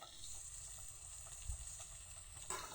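Vegetables for chow mein fry in hot oil in a pan, giving a steady, close broadband sizzle throughout with a faint clink or two near the end.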